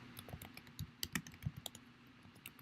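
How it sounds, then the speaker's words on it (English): Quick, uneven keystrokes clatter on a computer keyboard, a burst of close clicks with short pauses, no voices. "We log in by typing in our email"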